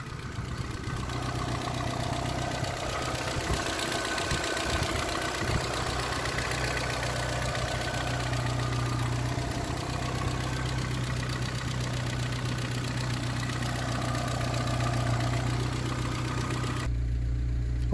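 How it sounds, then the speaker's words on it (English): A 2007 Tata Indica LSI with a 1.4-litre petrol engine idles steadily at close range, a constant low hum with a light mechanical ticking that carries on unbroken for about seventeen seconds before dropping away at the end. "I want to show you how nice engine sounds while the car is idling"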